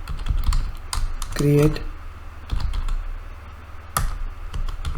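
Fingers type in bursts on a computer keyboard, close and clicky, with pauses and a few heavier key strikes. Someone speaks over the typing.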